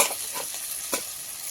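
Ginger garlic paste sautéed in a pan over a wood fire, a soft continuous sizzle with a few short stirring scrapes, brief and fairly quiet with no voices.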